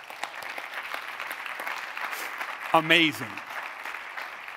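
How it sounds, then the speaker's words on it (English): Scattered applause from a crowd at a speaking event, fairly soft and continuous, with a voice briefly calling out over it near the middle. "That deserves a round of applause."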